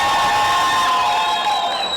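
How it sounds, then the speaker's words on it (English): A large crowd at a Texas Fight League MMA and kickboxing event cheers and shouts in a steady, loud roar with high whoops running throughout. "They're cheering for Ruben"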